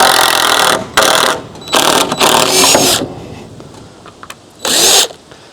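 A drill backs 3.5-inch screws out of wood in a sugarhouse, loud and close, with several ratcheting whirring bursts of about a second each separated by short pauses.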